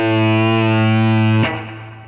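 A Telecaster electric guitar holds a loud distorted chord through effects, then cuts off with a sharp strum near the end as the sound decays into a quieter ringing tail.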